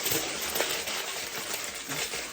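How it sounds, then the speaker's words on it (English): Close, continuous crinkling and crackling of aluminum foil being loosely crumpled, a bright rustly texture with small sharp crackles throughout. "Let's crumple the foil loosely and see what happens."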